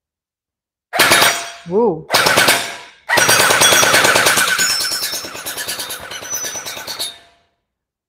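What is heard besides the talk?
JM Gen8 M4 gel blaster shooting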